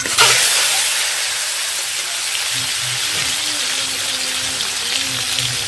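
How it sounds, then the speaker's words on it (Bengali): Eggs frying in hot oil in a kadai for egg biryani give a steady, loud broadband sizzle and hiss that runs unbroken throughout, with faint tones surfacing underneath. "এই তেলেই ডিম ভেজে নেব।"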